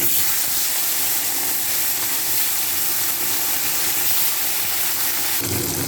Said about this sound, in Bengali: তেলটাও গরম হয়ে গেছে, মাছগুলো এক একে ছেড়ে দেবো